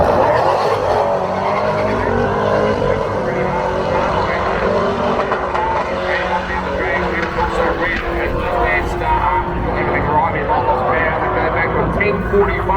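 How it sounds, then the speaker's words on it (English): A 1988 Nissan Skyline fitted with a 308 engine runs down a drag strip, its loud engine roar sustained across the whole pass while an announcer talks over it. "moving on now with Rhett Butler with this 88 Skyline powered by a 308"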